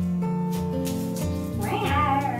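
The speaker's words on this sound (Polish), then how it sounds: "Przed chwilą miauczała." A cat meows indoors in a home during holiday tree decorating, a drawn-out, close, fairly loud call with a rising and falling pitch, sounding alone without talk.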